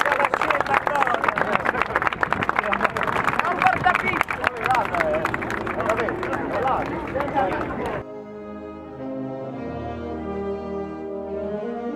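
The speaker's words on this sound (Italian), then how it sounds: "un applauso allora, se è andato bene" Audience applause at a Third Sunday of May 2018 event: dense clapping and crowd noise for about eight seconds, then an abrupt switch to music.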